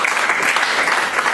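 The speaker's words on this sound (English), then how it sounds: "Give a round of applause to yourself." Attendees at a cybersecurity awareness forum marking World Safer Internet Day 2018 give a loud, steady round of applause, a thick wash of many clapping hands filling the room.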